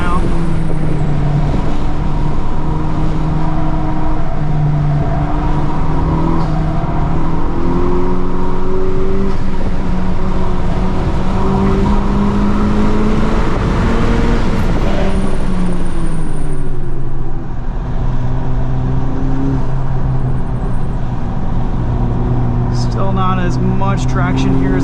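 A 2023 FL5 Honda Civic Type R on FK460 all-season tires is driven flat out around a flooded track, its engine revving hard through steady rising and falling pitch over constant spray and road roar.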